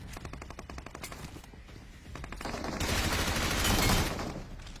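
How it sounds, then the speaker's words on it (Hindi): Gunfire in the mobile battle royale game PUBG Mobile, bursts of rapid automatic shots followed by a louder sustained roar of fire, close and dense, with no talking. "जैसे मैंने ग्रेनेड किया, उस ग्रेनेड से कुछ भी नहीं हुआ।"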